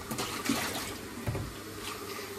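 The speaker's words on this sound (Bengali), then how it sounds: "এখানে সামান্য পরিমাণে একটু অল্প একটু পানি দিয়ে দিলাম।" Water poured into a pan of egg curry, a brief splashing pour with a bubbling hiss, close and moderately loud.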